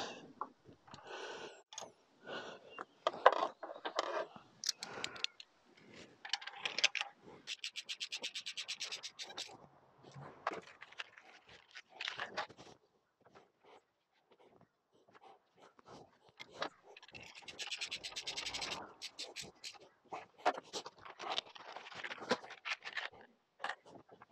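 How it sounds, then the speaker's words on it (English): Oil rubbed by hand around the threads of spark plugs for a Ford Mondeo ST220 engine, giving soft intermittent rubbing and scratching bursts at close range, with quieter gaps between strokes and no talk. "Now I'm just going to rub a little bit of the oil just around them threads"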